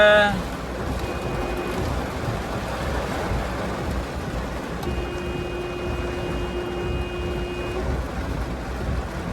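Steady rain pours down on a street in heavy traffic with a constant broadband hiss, accompanied by a faint sustained engine or horn tone in the background.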